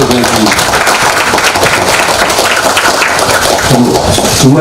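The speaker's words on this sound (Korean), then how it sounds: "격려의 박수 보내드립니다." Applause at a Democratic Party expanded leadership meeting, loud sustained clapping from a room full of people, dense and even throughout.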